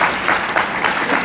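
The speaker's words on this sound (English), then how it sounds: "give yourselves a round of applause" Dense round of applause from students at a school violence-prevention symposium, a loud, continuous wash of many hands clapping with no voices over it.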